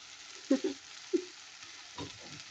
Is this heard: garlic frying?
yes